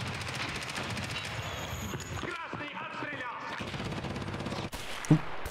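Automatic weapons fire in a realistic shooter video game: busy bursts of gunshots layered with game effects and some speech-like sounds, ending in a sharp louder crack near the end.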